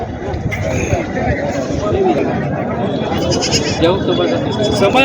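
Native goats bleat at a busy livestock market in Purna, Parbhani district, rising over constant crowd chatter and bargaining voices nearby.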